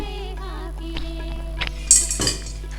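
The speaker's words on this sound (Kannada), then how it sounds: "ನೋಡಿ, ಗೋಮತಿ ಚಕ್ರ ಹಾಕ್ತಾಯಿದ್ದೀನಿ 5. ಕವಡೆ ಹಾಕ್ತಾಯಿದ್ದೀನಿ 5." Gomati chakra stones and cowrie shells clink against one another as they are dropped in for a Varamahalakshmi festival puja, with a few light, close taps under a steady background hum.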